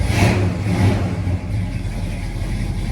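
A 1966 Ford Fairlane's engine revs loudly up close, roaring and rumbling with a throaty growl before settling into a lower rumble.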